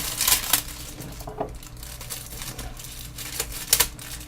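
Plastic packaging from a Yeti microphone box crackles and crinkles in irregular bursts, with a few sharper crunches near the start and again toward the end, close to the microphone.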